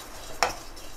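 A spoon scrapes once through fennel, cumin and coriander seeds roasting in a very hot kadhai with the gas turned off, a single short dry scratch against a quiet background.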